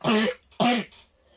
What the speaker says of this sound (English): We apologize for the coughing from our cameraman.